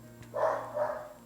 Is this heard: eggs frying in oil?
no